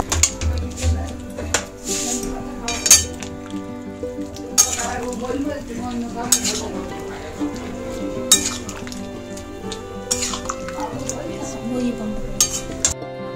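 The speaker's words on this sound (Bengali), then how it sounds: "তো মশলাটা দিয়ে একটু নাড়াচাড়া করলাম।" Vegetables and spices for Bengali shukto stirred in a pan, soft frying sizzle under repeated metallic clinks and scrapes of a spoon against the pan, with background music and a voice talking.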